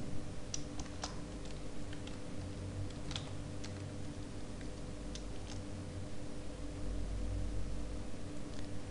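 Keystrokes tapping on a computer keyboard during Spanish-language software programming work, light irregular clicks in bursts over a steady low hum, no speech.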